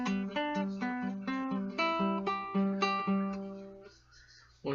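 An acoustic-style guitar picks the "Finger Game" song line, a quick run of clear plucked notes in a steady rhythm, close and solo, the last note ringing out before a new pluck at the end.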